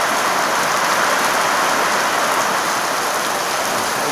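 A downpour in a morning storm drums loudly on nearby surfaces, an even, continuous hiss of heavy rain with no talk over it.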